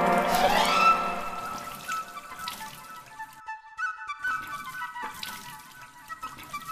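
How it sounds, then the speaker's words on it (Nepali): Water is poured in a steady splashing stream, loud at first and then easing into intermittent trickles and drips, with no voices. "ल पानी थप्नु। ल हाल पानी।"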